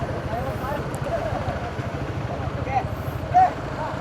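A motorcycle running through a flooded street in San Fernando, a steady low engine drone with water churning around it, heard close amid surrounding noise with people talking.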